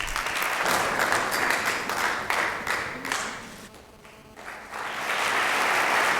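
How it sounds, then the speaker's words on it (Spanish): A hall full of people applauds an award recipient at the inauguration of the Palacio Europa in Vitoria-Gasteiz, loud sustained clapping that dips briefly in the middle before swelling back to full strength. "Un aplauso"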